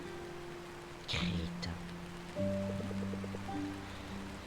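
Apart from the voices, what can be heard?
rain falling in the video game Until Then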